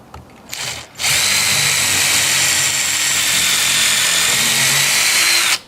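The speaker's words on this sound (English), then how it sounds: "So I'm just going to pilot hole this." A power drill bores a pilot hole into wood while wooden DIY car ramps are built. A brief spin-up comes first, then a loud, steady, close whine of about four and a half seconds that cuts off sharply.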